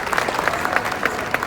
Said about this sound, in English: Can we give a round of applause to our sponsors again